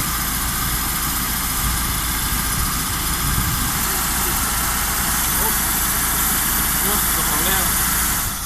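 A Subaru Forester STI with an Apexi exhaust and a TD05-20G turbo idles with its air conditioning running. It makes a loud, steady, even drone with a deep rumble and a constant hiss above it.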